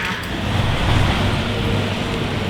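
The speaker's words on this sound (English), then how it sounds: "I think I hear some car parts being delivered in a semi-truck" A semi-truck arrives and rumbles steadily nearby, its deep engine drone filling the scene with broadband road noise, no voices.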